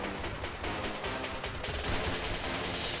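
Rapid bursts of automatic gunfire in a first-person shooter game, a dense rattling stream of shots that runs the whole stretch at moderate volume, with no talking.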